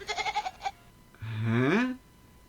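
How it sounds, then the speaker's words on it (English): A kitten gives two bleating cries that sound like a baby goat, close and clear. The first is a short wavering bleat, and a longer, rising cry follows after a brief pause. "For some weird reason, this kitten sounds like a goat."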